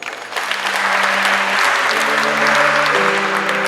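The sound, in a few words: applause at a wedding, clapping for God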